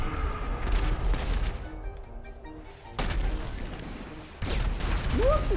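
Rocket launcher fire in a GTA V deathmatch played only with RPGs: loud booming blasts with heavy explosions, a big one near the start, another at about three seconds and a third near the end, with rumbling decay between.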